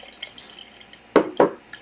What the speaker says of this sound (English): And so here I am, I'm pouring some water in here.